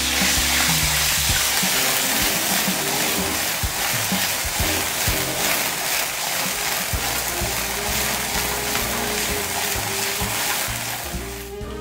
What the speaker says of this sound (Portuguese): puxar o azeite para entrar o fogo nele e aí dar essa queimadinha no tomate